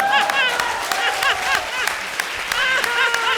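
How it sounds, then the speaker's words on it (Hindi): A studio audience at a comedy show applauds in a standing ovation, steady dense clapping that runs throughout, with a voice talking over it. "पानी निकालने वालों को स्टैंडिंग ओवेशन दे रहे हो आप लोग"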